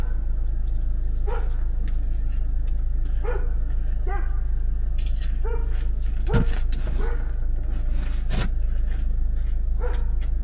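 A dog barks in repeated short bursts, some high and yelping, over a constant low engine-like rumble.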